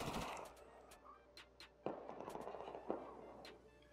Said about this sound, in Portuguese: Três tiros de Magnum pra matar o cara